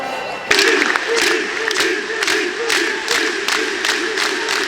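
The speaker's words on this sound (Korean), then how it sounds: "연경에 대한 연호와 함께 시작된 마지막 세트" At the start of a volleyball match's final set, a large arena crowd chants a star player's name in a loud, rhythmic, pulsing unison, with claps or drumbeats keeping an even beat.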